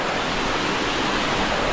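Waza (Chhatrang) waterfall on a trekking trail, a loud, steady roar of rushing water with broad, unbroken noise filling the whole span and no voices.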